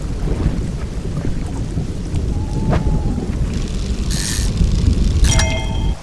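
A thunderstorm at sea in the fishing game Dredge: heavy, continuous rain and rumbling thunder fill the scene, with a few sharp, crackling flashes of lightning standing out near the end.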